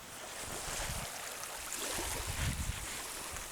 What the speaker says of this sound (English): I'll come back to listening to the sea.